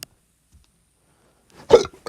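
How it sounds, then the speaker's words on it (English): A single short hiccup lands near the end after a long silence, followed by a brief faint trailing sound. "I'll put a hiccups there."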